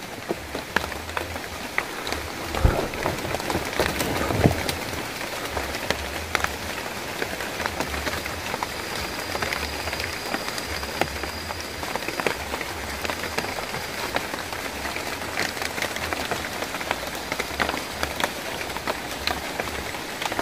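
Heavy rain falling on a camping tent, a dense continuous patter of drops drumming on the fabric, loud and steady for the whole span with occasional louder splats.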